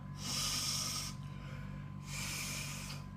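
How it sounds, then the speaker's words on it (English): Two long, close nasal sniffs from a Thai camphor and menthol inhaler, each about a second of breathy hissing inhalation separated by a short pause, with no talking. "I'm gonna take my Thailand sniff of camphor oil and menthol."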